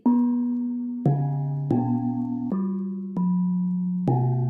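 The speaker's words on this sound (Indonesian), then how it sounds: "ini disebut dengan jenglong. Jenglong, ya. Suaranya seperti ini." Six struck bronze gamelan jenglong gong tones, one after another at a slow, even pace, each ringing clearly at a different pitch until the next strike.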